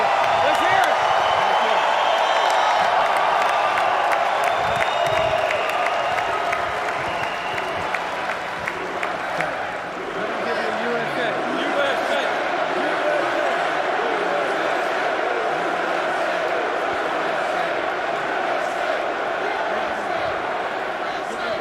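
A large crowd at the NFL Draft cheers and applauds loudly and steadily, fading slightly mid-way before swelling again, with the roar filling the whole span.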